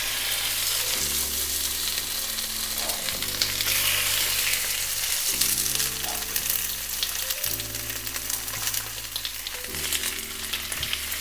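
Chicken thighs frying in a pan with garlic give a steady, close sizzle that runs throughout, with no talking.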